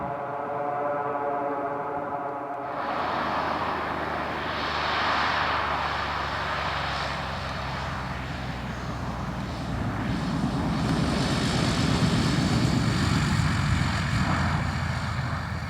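A Cessna 206 propeller airplane in flight, its engine droning steadily and loudly from inside the cabin, a continuous full roar that swells slightly without pause.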